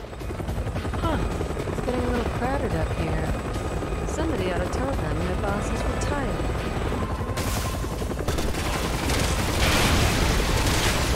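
A helicopter flying in the video game Resident Evil 6, a dense continuous rotor thrum with bursts of gunfire layered over it, loud and sustained throughout, with people talking underneath.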